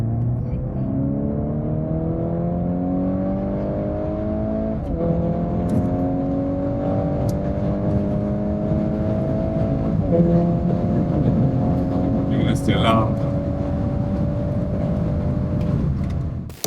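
A VW Golf 8 R, 20 Jahre Edition, with an Akrapovič exhaust at stock power pulls hard from 100 to 200 km/h, heard from inside. Its engine note climbs steadily through several gears, with short dips at each shift. It stays loud and continuous throughout.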